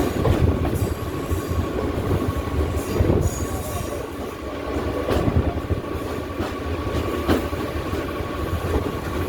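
A Howrah to Digha EMU train crossing onto the Digha line on a curve: loud continuous rumble of wheels on rails with rhythmic clacks over joints and occasional high wheel squeal.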